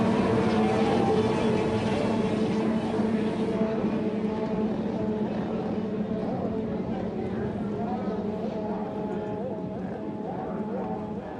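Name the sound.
racing boat engine, X2 class boat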